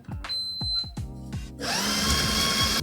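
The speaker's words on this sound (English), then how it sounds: "I'm going to set this to 10 and I'm going to start my grind." A Ninja Luxe Cafe espresso machine grinds coffee beans: short whirring bursts at first, then one continuous loud burr grinding that runs to the end, close up, with no talk.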